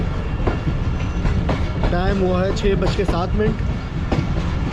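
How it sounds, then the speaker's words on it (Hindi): A passenger express approaching Kot Lalu railway station on a foggy winter morning, its continuous rumble and rhythmic clack of wheels heard from on board, with a voice speaking over the train noise. "ट्रेन हमारी अप्रोच बना रही है कोट लालू रेलवे स्टेशन पर"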